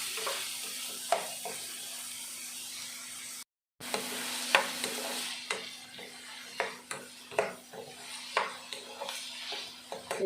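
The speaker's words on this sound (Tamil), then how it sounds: "நல்லா கொஞ்சம் எண்ணெயில் வதக்கிக்கிடலாம்" Green chillies sauté in oil in a pan, a steady soft sizzle running throughout with frequent light clinks and scrapes of a stirring spoon against the pan, close and fairly quiet, with no talking.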